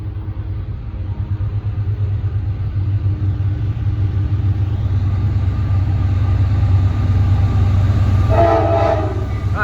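A freight train rolls past a defect detector site, a loud sustained low rumble of cars and wheels that swells steadily, joined near the end by a brief tonal horn-like blast, with a lawn mower droning nearby.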